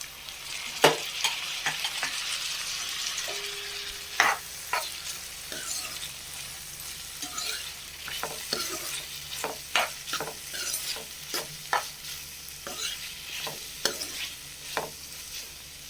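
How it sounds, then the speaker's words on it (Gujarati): Tomatoes are stirred into a frying cauliflower curry, giving a hissing sizzle under frequent sharp scrapes and knocks of a spoon against the pan, close and uneven in rhythm. "તો હવે આપણું શાક ચડી ગયું છે, એટલે આપણે એમાં ટમેટાં નાખી દઈશું"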